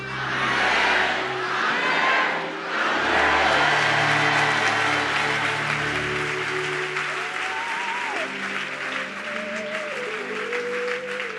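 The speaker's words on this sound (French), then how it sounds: "vous acclamez Dieu" A church congregation applauds and cheers God in a steady, dense wash of clapping and crowd noise, with a few voices rising above it and faint tonal music running underneath.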